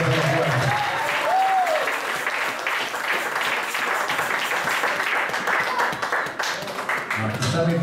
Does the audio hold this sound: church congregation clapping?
yes